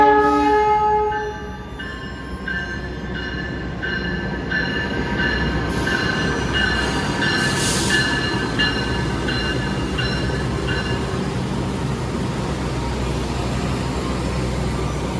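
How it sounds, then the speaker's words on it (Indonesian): The Argo Wilis passenger train passes close by, its horn sounding in the opening seconds before a loud continuous rumble of wheels and carriages, with some squealing, holds steady to the end. "Kereta api Argo Wilis,"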